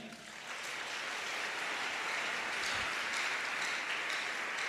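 Church congregation applauds and cheers for the Lord, a broad steady wash of clapping that swells in quickly and holds evenly, moderately distant, with no talk over it.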